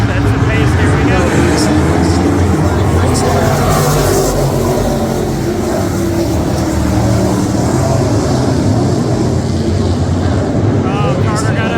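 Race cars circle a dirt oval at Willamette Speedway, a loud continuous engine roar with wind buffeting, close and sustained throughout while a commentator talks over it.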